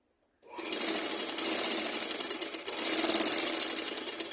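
Sewing machine stitching a blouse sleeve, a fast steady run of close, loud mechanical needle strokes that starts abruptly after a brief silence and continues without pause.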